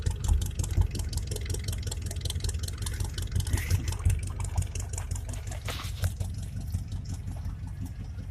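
A pickup truck engine idles nearby with a steady rhythmic chug, loud and even throughout with no voices.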